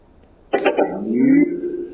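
A short electronic power-on chime from a copy of a JBL Charge 3 portable speaker sounds up close, a bright attack followed by a hollow, slightly boomy, barrel-like tone that lingers for about a second.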